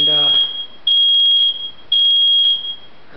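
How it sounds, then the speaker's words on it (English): A smoke alarm set off by heat shrills in three loud, steady beeping bursts, each lasting about half a second to a second, close by. "that's my fire alarm going off because of the heat"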